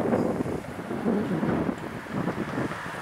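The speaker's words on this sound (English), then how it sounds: "Kind of windy." Blustery wind at a Daytona Florida fishing spot by the river, low rumbling gusts buffeting the microphone in uneven surges, with no voices.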